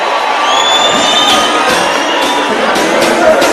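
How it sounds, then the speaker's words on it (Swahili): A large outdoor crowd at a political rally cheers and shouts loudly and continuously, a dense roar with whoops rising above it. Clapping is not distinct within the noise. "pigeni makofi"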